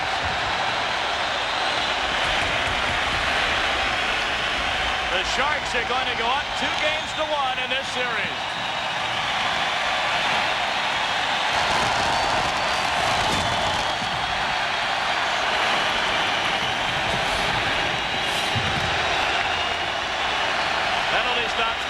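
Sustained, loud roar from a packed hockey arena crowd in the final seconds of a 1994 conference finals game, Sharks hosting the Maple Leafs, a steady wall of cheering that swells at times while a commentator talks over it.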